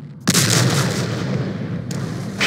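A tank cannon fires in the video game ArmA Cold War Assault, a loud booming blast that is followed by a rumbling rolling tail and then a second sharp onset near the end.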